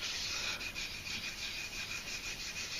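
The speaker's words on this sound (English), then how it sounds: "I'm using circular motions and I'm pushing the pumice into the grain" Pumice stone rubbed in circular motions into wood grain during shellac French polishing, a soft steady gritty scrubbing close up, quiet and alone.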